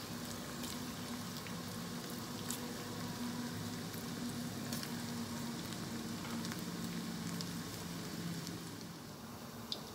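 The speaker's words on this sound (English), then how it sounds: "You can fry the koftas in 2 batches till it turns golden and crisp." Raw banana koftas fry in oil over medium heat, a soft, continuous bubbling sizzle with tiny pops, heard close but fairly quiet and steady throughout, with no talking.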